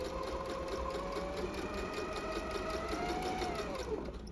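A Viking sewing machine fitted with a clear quarter-inch presser foot with guide stitches fabric in a steady, even whir. The fast needle rhythm holds close and continuous for a few seconds, quiet and without talk.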